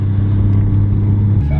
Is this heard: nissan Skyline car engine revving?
yes